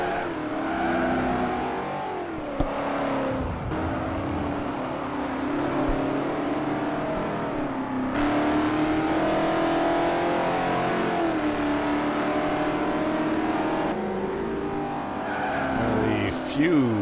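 Ford-powered Trans Am race cars in a racing video game at Indianapolis roar and rev continuously, engines rising and falling through gear changes with occasional tire squeal over the pack.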